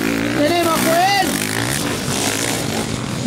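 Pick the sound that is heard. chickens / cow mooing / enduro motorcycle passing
enduro motorcycle passing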